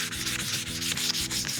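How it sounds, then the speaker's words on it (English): Sandpaper lightly scuff-sands wood along the grain, rubbing steadily back and forth in quick, even strokes, close up with no talking. "You can follow up again by just lightly scuff sanding in the direction of the grain"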